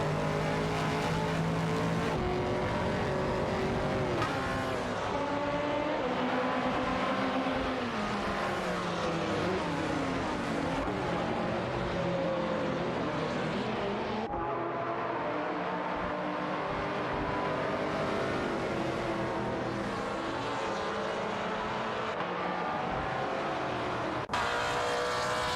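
Race cars including a Maserati Gran Turismo roar around a track in a racing video game, a dense continuous wash of revving engines and shifting pitches from several cars, loud and steady throughout with no talk.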